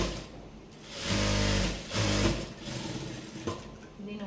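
An overlock sewing machine stitching blouse fabric in a tailoring lesson, two short loud mechanical whirring bursts with a brief pause between, followed by quieter handling clicks and a voice speaking faintly.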